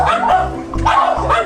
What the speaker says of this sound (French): Il y a d'autres chiens là.